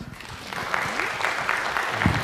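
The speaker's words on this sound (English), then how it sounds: "Let's give them another round of applause." Audience at a city council meeting applauding, a moderate burst of scattered clapping that fills the room, with a few faint voices mixed in.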